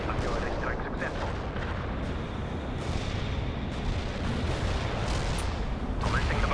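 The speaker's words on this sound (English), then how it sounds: "Artillery strike on the way. Artillery strike successful." Artillery barrage in the strategy game World in Conflict, a continuous dense rumble of distant impacts and booms rolling on without a break, with speech faintly mixed in.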